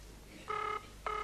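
Two short electronic telephone ring bursts, close and clear, separated by a brief pause over quiet background hum.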